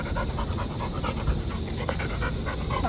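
A young pet golden retriever pants rapidly and steadily close by, a continuous breathy rhythm over a noisy background.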